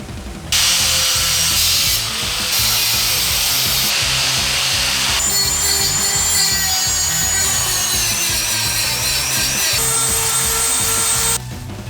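A power saw cuts away unneeded frame parts on a Honda CRF300L motorcycle for a fender eliminator, a loud continuous grinding, rasping whine that runs steadily throughout with slight shifts in pitch, close up and alone.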